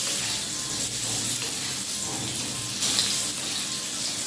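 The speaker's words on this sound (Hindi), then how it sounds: "इन आलूओं को भी हल्का सा फ्राई करेंगे।" Steady, hissing sizzle of boiled potatoes frying in oil, continuous and fairly loud throughout, with no talking.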